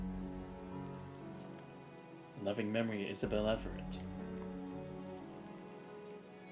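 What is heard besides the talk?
rain falling in the video game Punishing: Gray Raven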